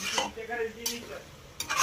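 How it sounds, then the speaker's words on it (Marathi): Mutton being stirred in a pan with no water added, giving a close scraping, stirring sound with a faint sizzle and a few sharp utensil scrapes over a short stretch. "चांगलं हलवून घ्यायचंय."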